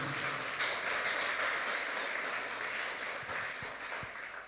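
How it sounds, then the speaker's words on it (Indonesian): A church congregation applauds during a Sunday worship service, sustained broad clapping from many people that holds steady and tapers slightly toward the close. "Kasih tepuk tangan bagi Tuhan kita."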